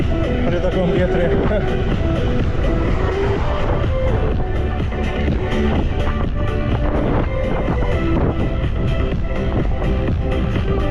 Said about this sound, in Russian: Нормальный летний ветер, начало лета.